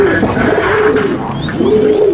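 Pigeons coo close by in a loft of fancy breeds, low repeated rolling calls over a busy background of other birds.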